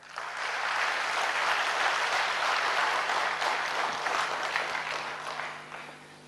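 Sustained applause from a seated audience at a Brahma Kumaris talk, dense steady clapping filling the hall for about six seconds before tapering slightly at the end.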